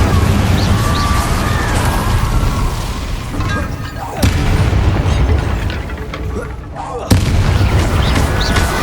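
Incendio fire spells cast during combat in Hogwarts Legacy, heavy booming bursts with two sharp cracks landing amid a continuous roar of battle noise, loud and close, with talk mixed in.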